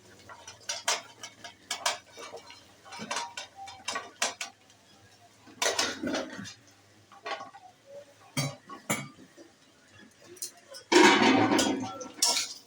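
A utensil stirs potatoes frying in a pan, making irregular bursts of scraping and clinking against the metal, with quiet gaps between strokes and a voice talking at times.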